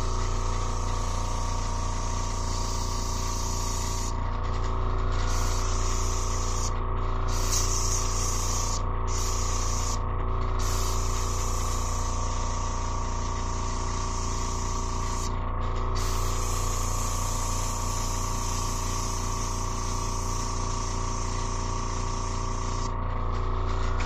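Airbrush spraying paint during customizing, a loud continuous hiss with an underlying pump hum, broken by several brief pauses in the spray, close and steady throughout.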